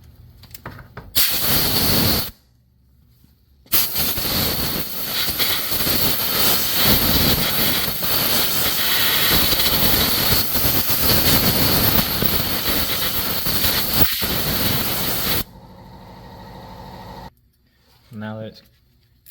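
An air compressor blowgun shoots a loud, steady hiss into the wheel hub of a 2006 Ford F-150 truck, clearing out debris. Short bursts come first, then a long continuous blast, and the compressor then shuts off. A voice speaks briefly afterward.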